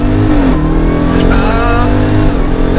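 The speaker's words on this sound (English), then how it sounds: "rev it up to about 1500 with your left foot on the brake" A Hennessey HPE850 Jeep Trackhawk roars at full throttle from a launch, a loud and continuous rising engine note heard from inside the SUV.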